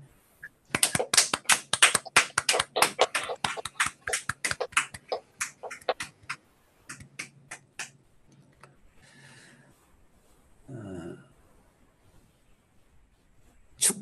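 Audience applause for an honoree at a humanities lecture, a dense burst of claps at the start that thins to scattered claps and then fades, with a few faint murmurs afterward.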